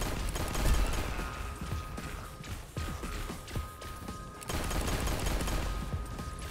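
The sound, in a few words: gunfire from a gun in the video game Echo Point Nova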